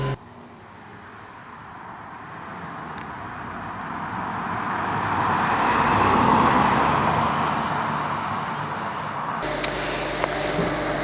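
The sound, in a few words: MG car driving on a rural road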